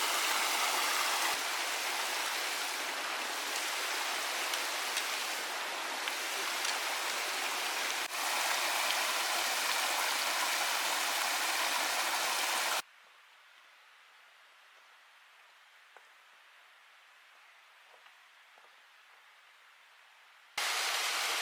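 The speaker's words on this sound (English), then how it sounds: "Always nice to come across a beautiful cascading waterfall." A cascading mountain waterfall in the Sawtooth Wilderness rushes with a dense, steady roar, drops suddenly to a faint distant hiss for several seconds, then surges back loud.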